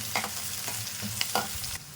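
Curry leaves and green chillies frying in oil in a pan, a close, continuous sizzle broken by several short stirring scrapes, with no voices.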